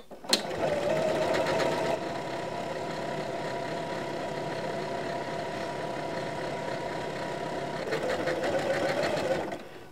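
A sewing machine stitches a wide decorative stitch on a tea towel, a close, rapid mechanical whirr running steadily for several seconds between brief clicks at start and end.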